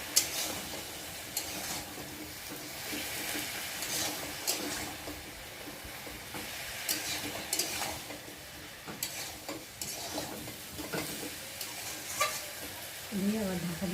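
Fish head with ginger and cumin paste sautéing in a pan, a soft continuous sizzle with intermittent scrapes and clacks of a spatula, fairly quiet throughout.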